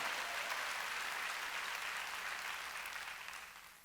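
A church congregation clapping during a service, a dense burst of applause that fades gradually over a few seconds, with no one talking.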